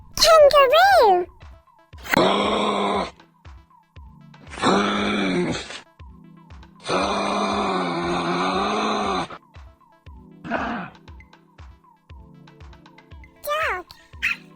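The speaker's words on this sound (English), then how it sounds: "Kangaroo." A kangaroo gives several drawn-out, groaning calls in separate bursts with quiet gaps between them, fairly close, followed by a few short fainter calls.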